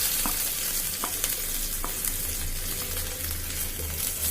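Crushed ginger frying in hot coconut oil makes a continuous close sizzle, with a few sharp ticks and crackles spaced through it.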